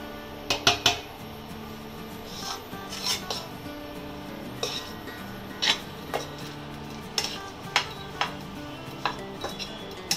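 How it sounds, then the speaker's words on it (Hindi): A spoon stirs and scrapes dates roasting in ghee in a pan on a gas stove, with a steady low rumble under sharp metallic clinks and scrapes at irregular intervals. "हम गैस को चालू कर देंगे और इसमें और थोड़ा सा घी डाल के इसको खजूर को थोड़ा सा भून के लेंगे"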